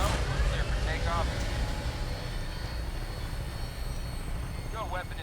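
An aircraft engine drones steadily as a plane takes off in a Spectacle Island survival game, a loud continuous roar with faint chirping and beeping overlaid, no voices.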